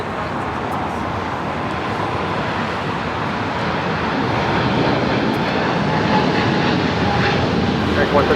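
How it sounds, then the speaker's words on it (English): An American Airlines Boeing 777-300ER rolls for takeoff on runway 25R at Los Angeles International Airport, a loud, steady broadband jet engine roar that builds slightly over several seconds, with faint traffic noise mixed in. "We have an American 777 now rolling on 25 right"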